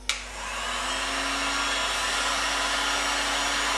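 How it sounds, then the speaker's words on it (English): A heat gun runs steadily at close range, shrinking heat shrink tubing; a short click at the start gives way to a constant broadband blowing hiss with a faint electrical hum beneath, no voices. "you want to be careful with the heat gun that you don't melt any of the plastics"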